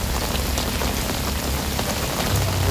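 Heavy rain pours down steadily and loudly, a dense continuous wash of drops striking surfaces close by, with no voices and only a faint low rumble late on.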